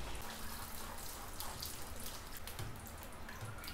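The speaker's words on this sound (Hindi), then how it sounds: "तो आपने करना क्या है कि जब ये तेल अच्छे से गर्म हो जाए तो आप कचौरी इसके अंदर ऐड कर दें" Kachori frying in very hot oil gives a dense, steady crackling sizzle, close and unbroken for a few seconds, with no talk.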